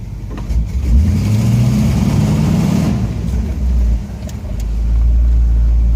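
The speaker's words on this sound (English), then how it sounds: "we're not going to break loose any rubber in the garage, but it accelerates pretty decent" A 1959 Pontiac Bonneville engine revs and surges loud and close inside a garage, settling back toward idle and then building again, with no talk.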